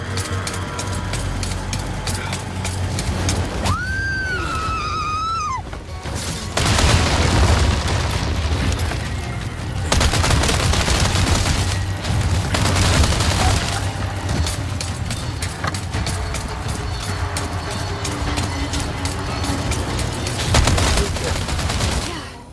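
Gunfire from a hand cannon and a Chicago sweeper in the Resident Evil 4 Remake castle section, heard as loud, dense bursts of shots and booms that keep coming with short pauses, over a game soundscape with a brief tonal sweep early on.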